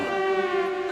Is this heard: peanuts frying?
no